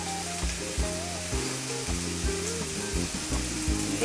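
Pinchos morunos, skewered meat seasoned with coarse salt, sizzling in a hot pan, a constant close frying crackle with some tonal clatter layered on top, no voices.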